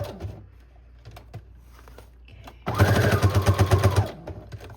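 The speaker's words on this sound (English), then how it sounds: "I'm going to sew all the way around the outer edge of the whole journal" Sewing machine running a straight stitch along the outer edge of a journal cover, a quick rapid rattling burst of needle strokes in the second half after quiet handling noises.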